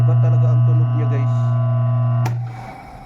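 Strained, steady humming from a three-phase electric motor fed by a single-phase DPS, a loud low tonal drone with brief faint voice-like bits early on, then a click and fading hum.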